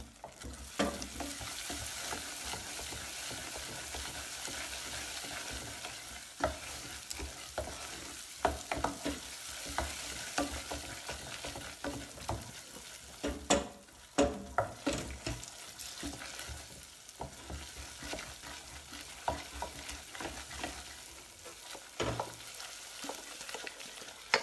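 Butter melting into caramel in a pan for an apple tart, a steady sizzle with frequent sharp clicks and scrapes of stirring utensils against the pan throughout, no talking.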